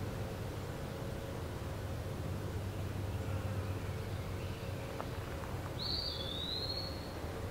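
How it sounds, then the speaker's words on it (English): A clear, bright indigo bunting phrase sings out near the end over steady background hiss and distant birdsong in a southern Ontario woodland on a summer morning. "And an indigo bunting."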